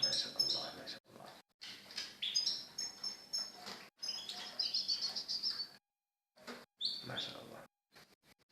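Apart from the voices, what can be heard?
goldfinches chirping at their nest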